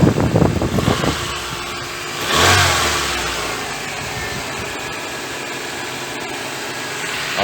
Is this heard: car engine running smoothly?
yes